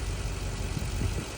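Car engine with a suspected leaking head gasket or warped head running at idle, a low steady rumble with slight uneven pulsing, close and alone.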